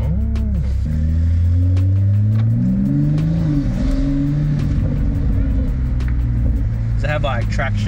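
A new Toyota Supra with an aftermarket $6000 exhaust pulls away, its engine droning low and climbing in pitch as it accelerates, loud and close, while people talk inside the car.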